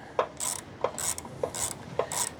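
Bolts being tightened on a Honda C200 motorcycle during servicing: four evenly spaced ratcheting clicks, each followed by a short metallic rasp, close and moderately quiet, with no talking.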